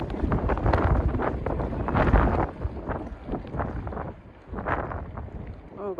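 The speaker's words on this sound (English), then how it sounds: "Oh god, it's windy." Strong gusts buffet an outdoor camera microphone during a rainy night ride, producing loud, uneven rumbling wind noise that swells and dips over a few seconds.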